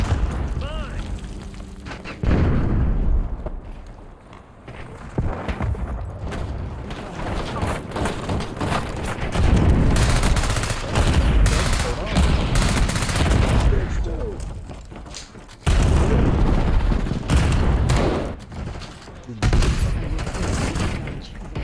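Heavy gunfire in a tactical shooter video game: loud, dense bursts of rapid shots and booming blasts, pausing briefly and then resuming, with voices talking over the fighting.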